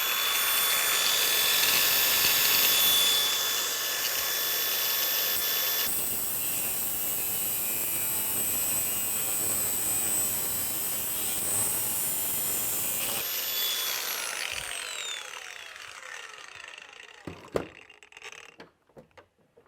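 A power tool runs with a loud, steady whine and hum while cutting chain during assembly of a robot arm section, changing pitch partway through, then winding down to quiet with a few clicks and knocks.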